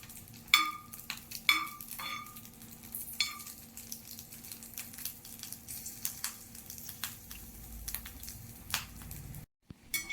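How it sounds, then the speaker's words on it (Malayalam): Red chillies fry gently in sesame oil, a quiet continuous sizzle with scattered crackles and pops, close and without speech. "ഈ മുളക് ഇതിൽ കിടന്നൊന്ന് മൊരിഞ്ഞ് വരണം"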